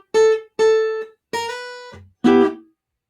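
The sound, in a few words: guitar playing a melody phrase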